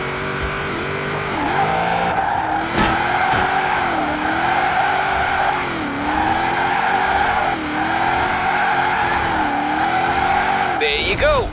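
A car drifts in Forza Horizon 4, its engine droning and rising and falling in repeated swells while tires squeal and skid through long slides, with a voice talking faintly underneath.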